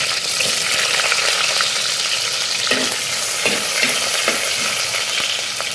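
Garlic and ginger hit hot coconut oil in a pan after fenugreek seeds, giving a steady, close sizzle and crackle that runs the whole time, with occasional stirring scrapes and no talking.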